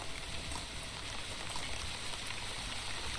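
Steady rain pours down in The Wandering Village, a dense, even hiss of drops at constant loudness with no pauses, no voices and nothing else standing out.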